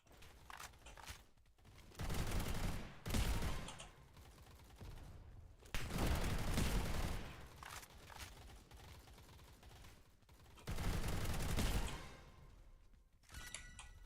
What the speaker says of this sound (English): Oh god, somebody's dropping bombs